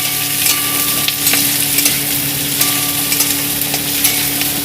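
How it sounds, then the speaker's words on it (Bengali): Green chillies and cashews fry in a hot pan for egg korma, giving a continuous loud sizzle broken by light scraping strokes as a spoon stirs through the oil. "তার সঙ্গে কাঁচা লঙ্কা কটা দিয়ে দেবো, কাজু বাদাম কটা দিয়ে দেবো, দিয়ে আমি হালকা করে একটু নেড়ে নেব।"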